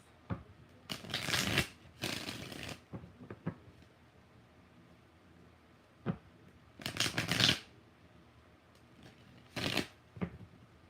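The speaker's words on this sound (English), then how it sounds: "Last shuffle." Tarot cards being shuffled by hand in several separate bursts of riffling, close and crisp, with quiet pauses between them and no talking.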